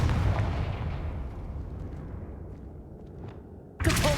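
A Confringo fire spell blast in the video game Hogwarts Legacy: a loud booming burst that fades into a long rumbling decay, then a second sharp blast near the end.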